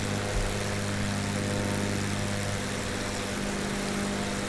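A Piaggio P-166 engine idles at zero throttle in Microsoft Flight Simulator, a steady low drone with a constant hum that holds evenly throughout, with no talk over it.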